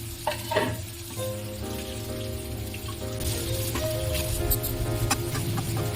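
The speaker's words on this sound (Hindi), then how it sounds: "अभी ये हमारे प्याज भून रहे हैं" Onions fry steadily in a pan in a home kitchen, a continuous close sizzle with occasional stirring scrapes and faint clatter. The hiss stays even and grows a little brighter toward the end.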